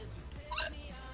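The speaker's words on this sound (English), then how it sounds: "Those dangerous hiccups." A streamer's hiccup, one brief faint squeak around the middle of a quiet moment, with a soft voice and low background noise.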